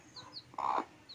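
A mother hen gives a short, soft cluck near her chicks, close by, with faint chirps around it and no talking.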